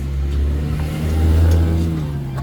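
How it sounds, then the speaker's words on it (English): A car passes by near a 2019 Chevy Impala Premier being worked on, a steady low engine rumble that swells and fades over a couple of seconds. "I got a car coming, y'all."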